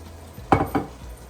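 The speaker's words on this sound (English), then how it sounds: "And now I'm going to add some red wine." Red wine, about a quarter cup, is poured into ground beef and ground pork cooking for a quick ragu, giving two brief close splashing, clattering bursts over quiet pan noise.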